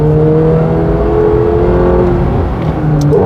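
A McLaren 750S accelerates hard, its engine note a loud, close, sustained rising drone with strong harmonic whine, heard alone without talk.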